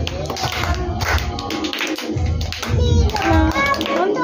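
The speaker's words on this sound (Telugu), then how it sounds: "claps claps" Children clapping at a church gathering, a lively run of rhythmic claps mixed with singing and voices, loud and close.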